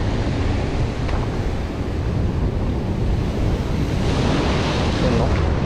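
Strong ocean waves surge and crash in a heavy downpour, with steady roaring surf, rain and wind buffeting the microphone in a continuous loud wash.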